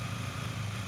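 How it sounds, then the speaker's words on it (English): A Honda CRF1000D Africa Twin, smoking after a water pump replacement, idles in a steady, even low rumble, close by and without talk. "And this is the bike fired up."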